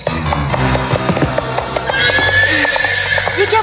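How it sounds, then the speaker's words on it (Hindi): A wild horse neighs loudly and repeatedly, whinnies layered over clopping hooves on hard ground in a 1998 Hindi film scene, close and continuous with a busy, forceful quality. "पागल बने विशाल, इस जंगली घोड़े को कभी तुम भी काबू नहीं कर पाए"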